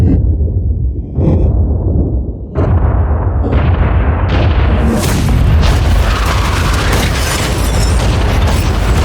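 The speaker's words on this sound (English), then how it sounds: "blow it up!" A toy yacht is blown up: a series of loud, heavy booms and blasts strikes in quick succession, building into a sustained roaring, crackling rumble of explosions up close.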